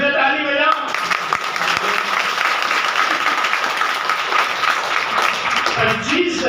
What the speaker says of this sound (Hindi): अरे तो फिर से ताली बजाओ।